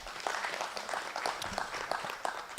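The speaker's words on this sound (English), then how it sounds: "Let's give him a round of applause." Conference audience at an academic media event applauds a speaker, a fairly quiet, dense spread of hand claps sustained throughout.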